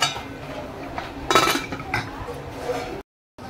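A metal fork clinks against a steamer dish as dhokla is checked, a brief bright chink in the middle of a quiet kitchen background.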